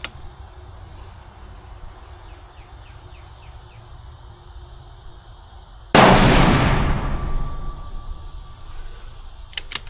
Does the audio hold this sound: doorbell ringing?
no